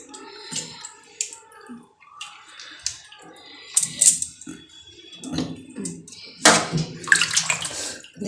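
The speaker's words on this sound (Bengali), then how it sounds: "কত নোংরা বেরিয়েছে শাকে। এই ধুয়ে রাখলাম, আরেকবার ধোবো।" Spinach leaves washed by hand in a basin of water, with splashing, sloshing and dripping in irregular bursts, some louder close splashes near the end; no talk.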